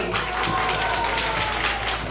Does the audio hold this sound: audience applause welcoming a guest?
yes